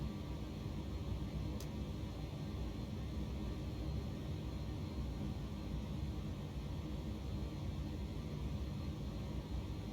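A steady broadband rumble of an MD-11F freighter taxiing in the X-Plane 12 flight simulator, with constant engine and airflow noise at even loudness and no distinct events.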